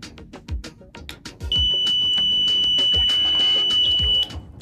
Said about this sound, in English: We have an alarm system which when the cat comes, it turns on to protect Sparky.